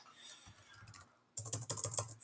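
Typing on a computer keyboard: a few soft, scattered key clicks, then a quick, dense run of close, crisp keystrokes.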